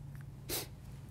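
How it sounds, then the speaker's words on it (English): Single short sniff through the nose just after a nasal spray dose, a brief breathy burst in the middle of a quiet stretch with low steady hum underneath. "Sniff slightly to keep the medication in the nose."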